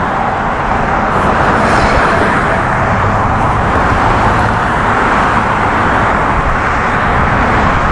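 Steady, loud highway traffic roars past on Interstate 45 in Texas, a dense continuous wash of car and truck noise with no letup.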